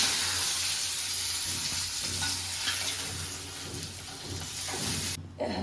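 Fried rohu fish pieces being lifted from hot oil in a home Bengali kitchen, a steady dense sizzle and crackle running close and loud, cutting out abruptly near the end.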